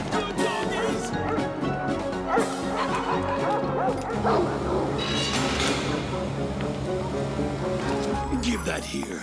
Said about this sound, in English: Sick him! Good doggies!